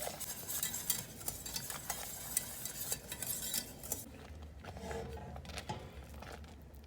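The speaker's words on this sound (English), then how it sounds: "we're going to go ahead and whisk in the grits" Grits being whisked into simmering liquid for shrimp and grits: rapid rhythmic whisk strokes against a pot, close and fairly quiet, with a soft bubbling simmer, the scraping thinning out after about four seconds.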